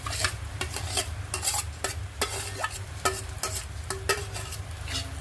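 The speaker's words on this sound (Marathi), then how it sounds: "आणि छान परतवायचं" Mashed boiled potatoes are stirred and sautéed in a pan, a spoon scraping and knocking against the metal in irregular strokes over a low, steady sizzle, close and fairly quiet with no talking.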